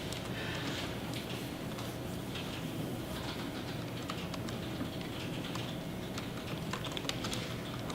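Rapid clicking of a computer keyboard as readings are typed into a Moodle course page, steady close-up keystrokes continuing throughout with no talking.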